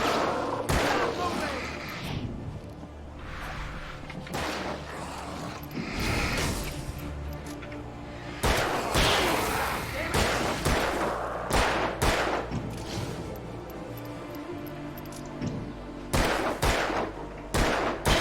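Repeated gunfire in the PC video game Alan Wake, sharp loud bangs in scattered bursts alongside mechanical clicks and effects, with someone talking at times.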